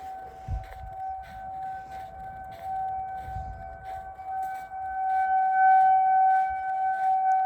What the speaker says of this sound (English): Those sirens rotate.